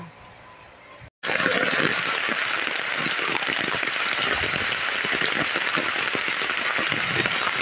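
Steady, heavy rain pours down in the Philippine countryside after a brief pause, a dense hiss of drops drumming on surfaces close by.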